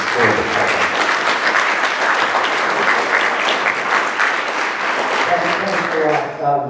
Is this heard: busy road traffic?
no